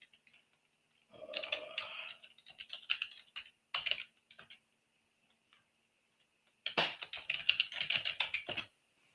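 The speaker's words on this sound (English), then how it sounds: "Let me see if I can type that in." Bursts of computer keyboard typing, quick irregular key clicks in two clusters separated by a pause, close and fairly quiet with no talking.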